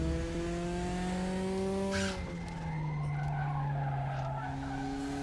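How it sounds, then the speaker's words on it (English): Porsche race car in RaceRoom sliding through Paddock Hill, loud sustained engine drone dropping in pitch as tires squeal and skid through the corner, no voices. "Immediately big slide through Paddock Hill."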